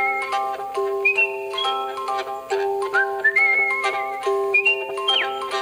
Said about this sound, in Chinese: 口哨也可以是美妙绝伦的乐器。